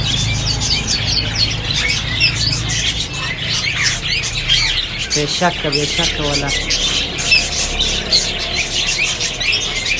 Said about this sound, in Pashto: ډېر خوندور مرغان دي